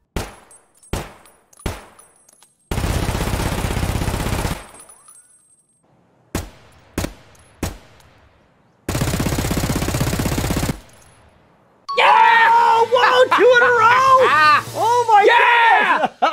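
KRISS Vector submachine gun fire: short single shots and two long sustained automatic bursts, loud and close, followed by excited shouting voices.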